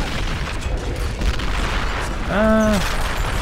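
A Nebelwerfer rocket launcher fires in the Men of War: Assault Squad 2 game, set at Stalingrad's Mamayev Kurgan, a booming launch over steady battle noise with a rising whine near the end, under ongoing sound.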